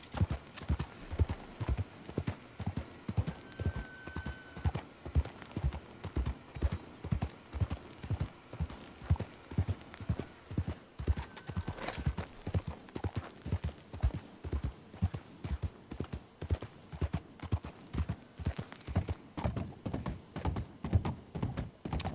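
Video game horse hooves clip-clop steadily in a regular walking rhythm, fairly close, with a faint high tone briefly appearing a couple of times.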